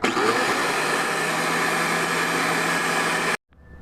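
A 4.5 inch angle grinder grinds paint off metal on a Super Duty truck in a tight spot, a loud steady whine with broadband roar that runs continuously for over three seconds, then cuts off abruptly into near silence.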